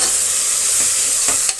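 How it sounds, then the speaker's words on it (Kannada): Ginger garlic paste sizzles with softened tomatoes in a pan, giving a steady, close frying hiss with a few short stirring scrapes near the end. "ಟೊಮೆಟೊ ಸ್ವಲ್ಪ ಬೆಂದ ನಂತರ ನಾವು ಶುಂಠಿ ಬೆಳ್ಳುಳ್ಳಿ ಪೇಸ್ಟು ಮಾಡ್ಕೊಂಡಿರೋದನ್ನು ನಾವು ಸೇರಿಸೋಣ."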